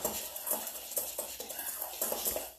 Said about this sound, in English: And let's stir this all up. You want to mix it all up.